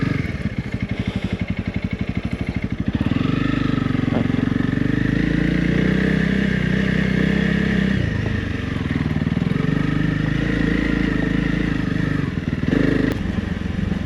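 A Honda CRF 300 Rally motorcycle climbs a rocky off-road trail, its engine loud and close with a steady throbbing drone that rises and dips as the throttle changes, with rattling over rough ground.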